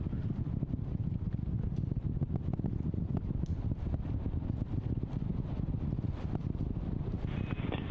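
Artemis II rocket launch with the main engines throttling up: a steady, dense low roar and rumble with wind-like buffeting, continuous and unbroken throughout.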